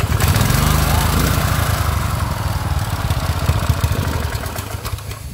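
A used Japanese 6.0 HP gasoline engine runs on a test, a loud close chugging drone that holds steady and then eases slightly in level with a rapid, even firing rhythm.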